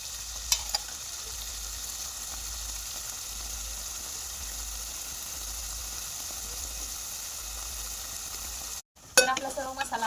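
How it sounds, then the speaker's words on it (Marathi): Ground spice masala roasting in a pan for matar paneer gives a steady, close sizzle with faint stirring scrapes, broken by a short gap near the end before louder clatter. "आपल्याला हा पण मसाला छानपैकी भाजून घ्यायचा आहे।"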